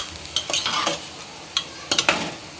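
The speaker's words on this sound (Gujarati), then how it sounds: "તો મિક્સ કરી લઈએ." Morainya (barnyard millet) khichdi being mixed in a pot with potato, close scraping spoon strokes in short bursts over a faint sizzle.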